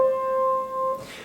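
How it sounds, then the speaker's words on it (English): An appoggiatura from above played on a keyboard, two clear, evenly held tones in sequence, soft and solo, ending abruptly after about a second. "Number 10, an appoggiatura from above."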